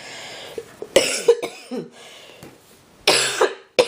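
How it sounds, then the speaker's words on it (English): Several sharp coughs from a sick person burst out close by, a cluster near the start and another loud pair near the end, with quiet pauses between. "I'm going to apologize for any coughing."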